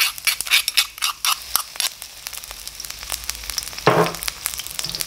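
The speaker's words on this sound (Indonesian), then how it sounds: "Kita goreng sebentar sampai dia punya aroma tu naik bau." Spices and ingredients hit hot oil in a pan for siobak pork, crackling and sizzling steadily with a bright, spitting texture and one louder flare of frying near the end.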